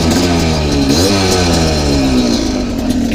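A 125cc motorcycle engine revs up close, its pitch climbing in a surge then sliding down as the throttle eases, loud and continuous with a buzzy exhaust note.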